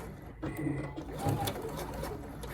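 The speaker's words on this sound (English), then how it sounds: "we're going to be running over the previous stitching from the factory, which is along here, with our new stitching and back stitching" A sewing machine stitches and back-stitches over the factory running stitch at the waist of men's slacks, a short close whirring run under a steady background, with a voice speaking partway through.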